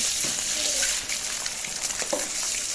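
Hissing sizzle of an egg frying in a pan, close and fairly loud, steady with a few faint clinks.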